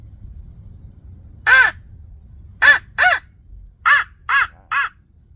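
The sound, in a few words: crow call blown to imitate crow caws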